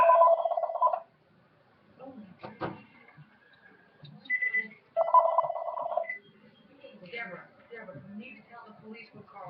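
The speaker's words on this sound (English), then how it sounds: "He answers the phone and then the phone rings." A telephone rings in two short electronic bursts a few seconds apart, moderately quiet, with a person talking in between and some faint clicks and rustles.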